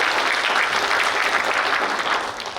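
Audience applause at a book launch event, a dense, loud, sustained clapping from a full room that carries evenly throughout and tapers slightly at the end.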